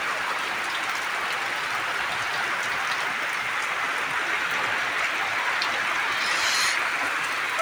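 Heavy summer rain pours steadily onto a rooftop balcony, a dense, even hiss of drops that stays loud and unbroken throughout with no voices.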